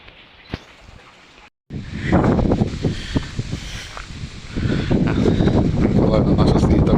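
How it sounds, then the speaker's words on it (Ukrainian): Strong wind buffets the microphone in loud, rumbling gusts that swell and roar at a spring where water is being collected, with a brief dropout early on and talking partly buried underneath. "Де вітер такий, капец"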